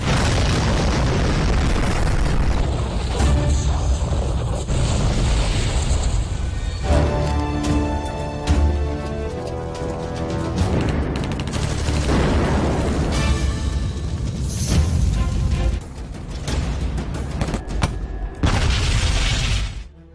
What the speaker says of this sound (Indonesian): tim sniper yang telah bersiap di posisinya mulai meledakkan drum minyak milik musuh